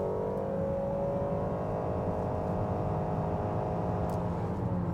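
2019 Honda Accord Hybrid Touring accelerating under throttle, a steady engine and road hum heard from inside the cabin, rising slightly in pitch as the car builds speed, with no talking.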